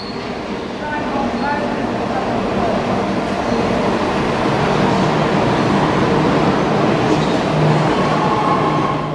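A train running through a tunnel, a loud constant rumbling roar with a steady rattle, heard from inside the carriage and filling the whole stretch without any break.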